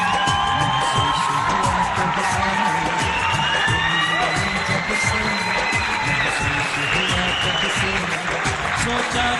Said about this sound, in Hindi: बहुत सारी तालियां होनी चाहिए अवार्ड देने के लिए जावेद शेख साहब के लिए।